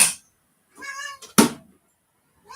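A house cat waiting at a door gives a clear, tonal meow, close by, with a brief sharp knock or clatter just after it in an otherwise quiet room.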